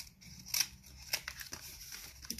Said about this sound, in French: vous prenez le ciseau